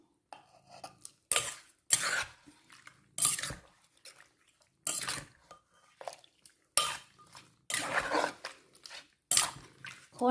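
A wooden pestle pounds and stirs fresh shrimp papaya salad with fermented fish sauce in a mortar, giving sharp irregular knocks separated by quieter scraping and mixing.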